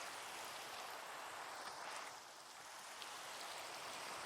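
Steady rain falls in a video game, a dense, even hiss of drops on surfaces that continues unbroken and fairly close, with no voices.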